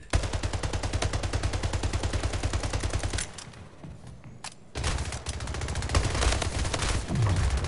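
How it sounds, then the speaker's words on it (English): Rapid automatic gunfire in the video game Splitgate rattles in a fast, steady stream, pauses briefly, then resumes in loud, close bursts. "I was shooting so many of you"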